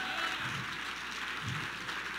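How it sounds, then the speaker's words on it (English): Scattered applause from a keynote audience at a Medicare sales event, a soft, steady wash of clapping heard at a distance with no talk over it. "One last round of applause, and then I'm going to kick this off for you guys."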